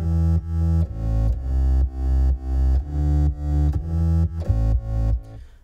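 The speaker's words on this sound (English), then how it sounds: "a synth called Sync Bass, which sounds like this." A gritty, distorted Sync Bass synth plays a steady pulsing riff, loud and upfront, with repeated punchy notes in an even rhythm.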